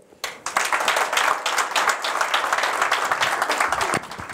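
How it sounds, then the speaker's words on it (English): An audience at a 2018 innovation and entrepreneurship networking meetup breaks into sustained applause welcoming a speaker onto the stage, the clapping rising sharply and holding steady and dense throughout, with no talking. "I would like to call on stage with a round of applause, please, Mr. Ronald Mustert"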